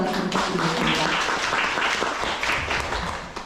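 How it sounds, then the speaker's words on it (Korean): A seminar audience on suicide prevention for young women gives sustained applause, a dense wash of many hands clapping that fills the room for the whole stretch, with a voice briefly audible over it. "다시 한번 감사의 박수 부탁드리겠습니다"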